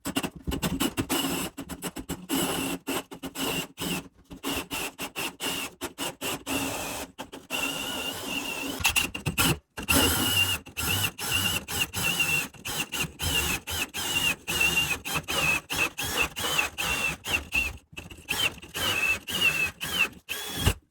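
A drill bores a hole through wood for a plumbing vent during a house plumbing remodel, making a close, continuous grinding chatter with a thin high whine that runs for about twenty seconds with brief breaks.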